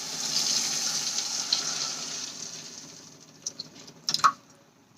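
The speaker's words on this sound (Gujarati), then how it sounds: "તો અહીંયા મેં એક ગ્લાસ જેટલું પાણી એડ કરી લીધું છે" A glass of water is poured into a pan of sautéed masala for a Maggi gravy, giving a loud hissing sizzle that fades over a few seconds, followed by a few sharp clinks and knocks.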